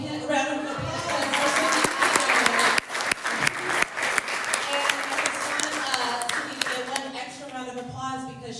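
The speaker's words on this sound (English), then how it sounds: "A big round of applause." An audience at a summer academy assembly applauds steadily, a dense wash of clapping that holds for the whole stretch, with a few voices mixed in beneath it.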